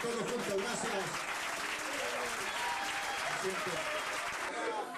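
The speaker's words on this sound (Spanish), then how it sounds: "Aplausos a todos juntos" An audience at a live comedy show breaks into steady, sustained applause, dense hand-clapping from many people with a voice speaking over it.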